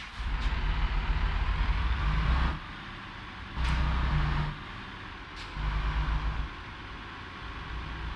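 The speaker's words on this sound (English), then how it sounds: "I'm going to fire the buggy up, get into gear, and pull out" Heavy truck engine in American Truck Simulator idling and revving in repeated low rumbling surges with hissing air, steady and close, no talk.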